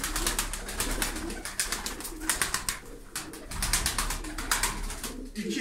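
Turkish tumbler pigeons cooing close by, a dense run of repeated soft pulsing coos with short pauses, continuing steadily with no voices.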